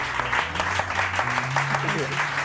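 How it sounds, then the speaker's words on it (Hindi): An audience claps for a guest named Akhtar at a Hindi comedy show, a dense burst of applause lasting the full moment, with low musical or vocal tones beneath. "अख्तर भाई के लिए तालियां"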